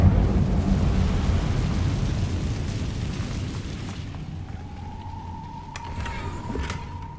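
Incendio fire spell cast in Hogwarts Legacy: a loud roaring, rumbling burst of flame that gradually fades, followed by a quieter sustained tone and a couple of sharp clicks.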